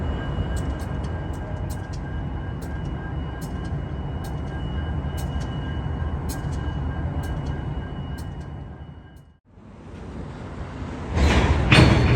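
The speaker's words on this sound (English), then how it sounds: "I found a couple of locomotives idling, one of which was a Spartan Cab ST60" Locomotives idle in a Union Pacific rail yard in Portland, giving a steady low diesel rumble with faint repeated clicks above it, which dips briefly before a louder burst near the end.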